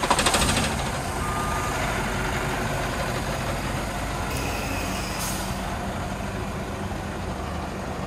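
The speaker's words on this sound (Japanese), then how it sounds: "エンジンかけます" A privately owned truck with trailer starts and settles into a steady idle, a short loud burst at first and then a constant close diesel rumble, with a couple of brief higher tones partway through.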